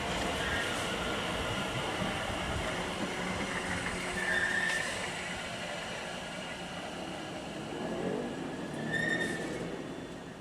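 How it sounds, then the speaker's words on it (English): A Class 350 passenger train runs from Milton Keynes to London Euston, a steady rumble of wheels on track with brief high squeals, close by and continuous for the whole stretch. "Here comes another 350. This is going from Milton Keynes to London Euston on 2 kilo 16."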